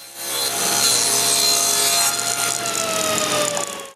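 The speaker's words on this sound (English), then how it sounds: "I begin by ripping two pieces of plywood for the end stop." Plywood ripped into two pieces with a saw for a rail end stop, a steady loud cutting whine sustained for nearly four seconds, then tailing off at the end with no voices.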